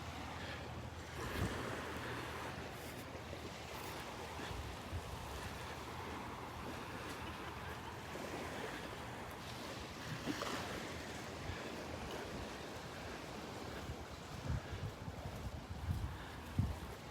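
Waves wash gently over a sandbar at low tide on Delnor-Wiggins beach in the early morning, a soft continuous surf under light wind buffeting the microphone, with a few faint thumps.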